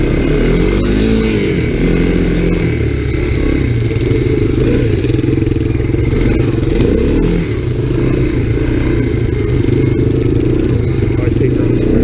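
Small engine of an all-terrain three-wheeler (ATC) riding in snow during winter camping, steady and loud throughout with rattling clatter, close to the mic, while another rider runs a foot away.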